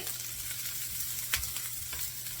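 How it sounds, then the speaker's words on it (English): Hash browns sizzle on a hot griddle with a steady, bright crackling hiss that stays even throughout, broken only by a couple of faint scraping clicks. "we're just gonna cook these until they're nice and sauteed."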